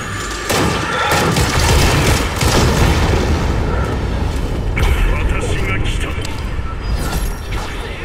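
Gunshots and booming blasts in a video game, a dense, loud barrage running almost continuously, with players talking over it.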